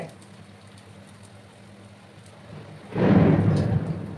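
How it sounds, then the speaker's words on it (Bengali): Rain sets in with a low rumble of thunder, a sudden loud broadband wash building at about three seconds after a quiet, faint stretch, continuing steadily to the end with no talk. "বন্ধুরা? বৃষ্টির আওয়াজ শুনতে পাচ্ছ তোমরা?"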